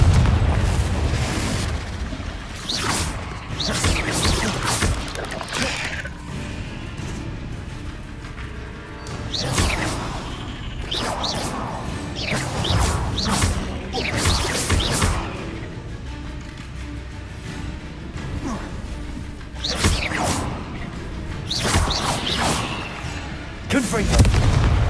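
Confringo blast spells in the Hogwarts Legacy video game go off as a rapid run of loud booming explosions, roughly a dozen irregular bursts with fainter rumbling between them.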